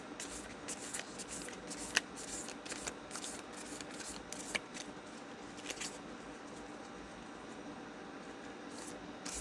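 A deck of tarot-style reading cards being shuffled by hand, heard as quiet, repeated soft riffles and flicks in a steady rhythm throughout, close by with no talking.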